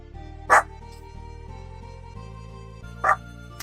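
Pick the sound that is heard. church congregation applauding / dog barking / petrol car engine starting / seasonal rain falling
dog barking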